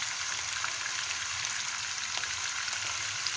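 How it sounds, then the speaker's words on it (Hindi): Gourd and chicken koftas fry in a little oil, giving a steady, close hiss of fine crackles that runs unbroken from start to end with no talking. "कोफ्ते जो हैं वो फ्राई हो रहे हैं बहुत ही कम ऑयल में"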